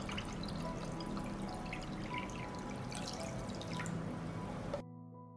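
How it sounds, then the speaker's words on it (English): Water is poured into a cooking pan lined with a cloth and holding jars for pasteurizing, a continuous close trickling and splashing that runs steadily, then cuts off abruptly near the end. "I pour water up to the height of the lid."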